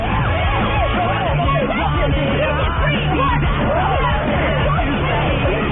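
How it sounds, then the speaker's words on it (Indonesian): A woman screams and yells continuously while throwing out her boyfriend's belongings, loud, agitated shouting over a dense, noisy, muffled background. "wanita itu selalu berteriak-teriak tiada henti"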